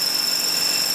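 A drill is boring holes in a part for a BSA Fury motorcycle engine, giving a short, steady, high-pitched machining whine with no voices.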